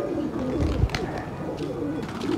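Pigeons kept in a net loft, young birds feeding on grain, coo in low rolling calls close by, several voices overlapping at moderate volume with a brief rustle partway through.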